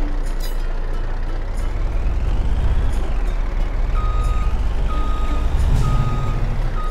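A truck in Farming Simulator 22 backs up, its evenly spaced reversing beeps chiming over a loud, rumbling engine idle.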